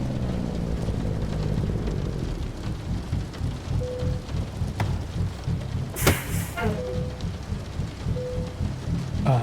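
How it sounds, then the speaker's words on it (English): Steady rain patters on a surface with a low rumble underneath, and a few brief clanks and a short tone cut through. "Oh, she's raining too."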